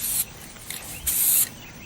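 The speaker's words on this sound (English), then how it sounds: "What we want to do is do a fine, even side-to-side spray on this." Spray can laying down a fine, even side-to-side coat: two short, loud hissing bursts, one brief and one longer, separated by a pause with a faint puff between.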